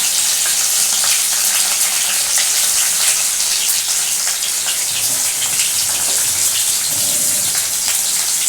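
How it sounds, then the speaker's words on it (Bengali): Prawns dropped into hot oil in a pan for a grandmother-style ridge gourd and coconut curry, giving a loud, steady, dense sizzle that runs continuously without letup, with no talking. "কতগুলো চিংড়ি মাছ আমি এর মধ্যে ছেড়ে দিচ্ছি"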